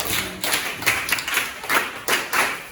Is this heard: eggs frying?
no